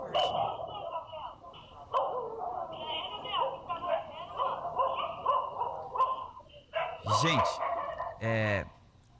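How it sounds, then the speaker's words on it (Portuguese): Dogs bark in the background, several sharp yelps scattered under ongoing broadcast speech, fairly faint behind the talking. "tem os latidos dos cachorros aí no fundo"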